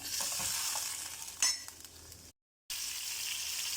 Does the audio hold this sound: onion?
yes